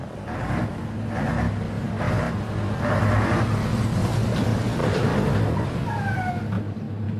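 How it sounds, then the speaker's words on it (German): A city bus driving in a radio-play sound effect, with a steady low engine rumble and road drone throughout, rhythmic surges and a brief high squeal near the end. "Ich saß in einem Linienbus."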